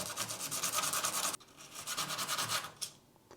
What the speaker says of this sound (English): I just sand both sides of them